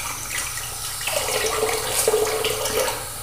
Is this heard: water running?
yes